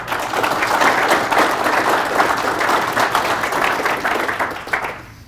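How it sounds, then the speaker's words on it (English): Steady round of applause from a conference audience at a Montana agricultural economy event, loud and sustained for about five seconds before fading at the end, with no speech over it. "So please join me in a round of applause for those."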